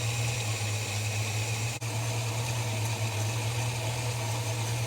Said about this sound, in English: I like to run a very low idle